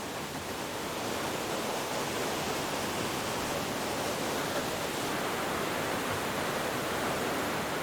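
A small nameless waterfall in Kyrgyzstan rushes in a constant broadband roar of tumbling water, close and fairly loud, steady from start to finish with no voices.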